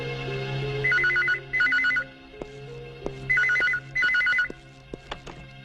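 A telephone rings with a warbling electronic trill, two quick bursts, a pause, then two more bursts, with faint clatter between rings.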